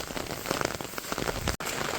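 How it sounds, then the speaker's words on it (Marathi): Steady rain pours down across the whole stretch, a dense even patter with close drops, broken by one abrupt instant of silence near the end. "पाऊस काय मला वाटत नाही थांबेल"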